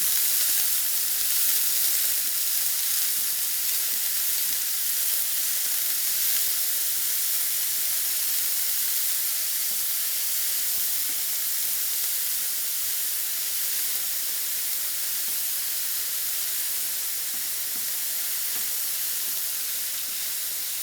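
Onions sweat in a pan for a tuna noodle casserole, giving a constant soft sizzle and steamy hiss, close and even throughout, with occasional faint stirring from a wooden spoon.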